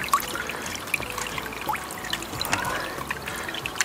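Creek water near Cape Alava on Washington's Pacific coast pumped through an MSR SweetWater filter, with a continuous trickling pour broken by small clicks and splashes, close and clear, no talking.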